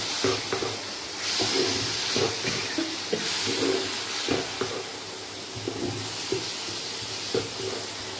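Bhola fish curry is stir-fried in a pan, giving a steady sizzling hiss throughout. Soft scraping and clicking from the stirring spoon come in at an uneven pace.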